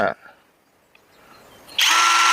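A Masaru 1200 Nm impact wrench motor spins up with a loud, steady high-pitched whine near the end, after a brief burst and a quiet stretch.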